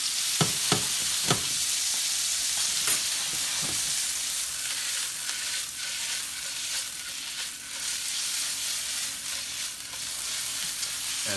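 Carne asada meat frying in a hot pan, a steady sizzle with sharp bursts of spatter as it first hits the pan, followed by scraping and stirring that continue throughout.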